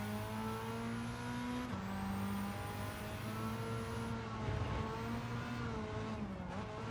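Race car engine in the Gran Turismo 7 video game during a quick three-lap race, a steady high whine with harmonic gear-shift steps and pitch changes as it accelerates, loud and alone without talk.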